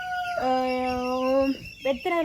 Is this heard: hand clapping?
no